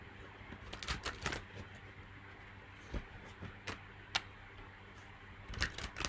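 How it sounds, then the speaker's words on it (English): Tarot cards being shuffled by hand, a series of soft, scattered riffling snaps and card flicks with quiet gaps between bursts, close and intimate in an otherwise hushed room. "I'm going to shuffle some more."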